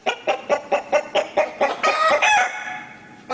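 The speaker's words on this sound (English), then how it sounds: "That is a tarnagol, a chicken." Chicken clucking in a quick, regular run of about a dozen close, loud clucks, rising into a denser, squawking burst near the end with no voices.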